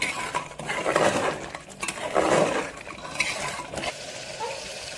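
Onions and keema are sautéed and stirred in a pan, with a spoon scraping and clinking against the metal in irregular strokes over a soft frying sizzle, close and moderately loud.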